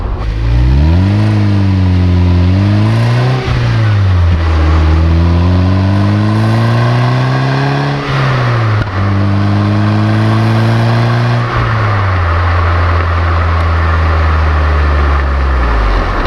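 A loud Toyota MR2 Mk1 engine pulls hard from inside the car, pitch sweeping up through repeated gear shifts, steady and close with no speech.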